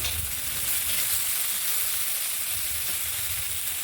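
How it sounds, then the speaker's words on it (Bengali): Chili frying in hot oil with fenugreek for a radish and tangra fish curry gives a steady, close hiss and sizzle that holds an even level throughout, with no voices. "লঙ্কাটা ভেজে নিচ্ছি"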